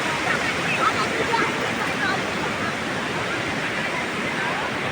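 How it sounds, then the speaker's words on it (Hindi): Heavy rushing water under the Colva bridge in Goa roars steadily and close, a dense unbroken wash of noise like a torrent pouring past. "देखिए दोस्तों, बहुत पानी आ रहा है"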